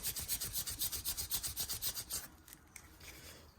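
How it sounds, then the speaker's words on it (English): Rapid back-and-forth rasping of sandpaper against the brass bolsters of a vintage Schrade Old Timer pocketknife, about fifteen quick close strokes in steady rhythm before stopping, followed by faint handling noises. "Just trying to get that brass shined up in here with the sandpaper right now."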